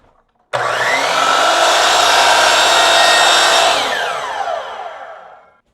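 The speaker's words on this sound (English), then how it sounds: "We wanna make our very first cut and cut off that flat factory edge at a 30-degree angle." A power saw cuts through a wooden board at a 30-degree miter, starting abruptly with a loud, steady whining roar for about three seconds before winding down and fading.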